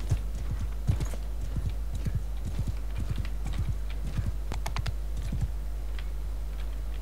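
Rapid, rhythmic hoofbeats of horses galloping in the video game Mount & Blade II: Bannerlord, crisp and close, continuing steadily with a few sharper knocks, no voices.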